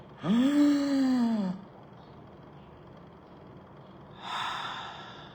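A long, deep inhale sounds close and loud, drawing in on a rising breath with a slight rasp for over a second. After a pause, a softer breathy exhale follows alone.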